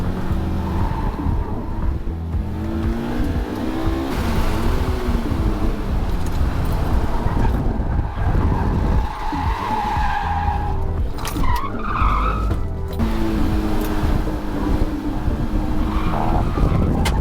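A Honda S2000 lapping a racetrack, its engine droning steadily throughout with loud tire squeal and skidding as it slides through corners, close and continuous.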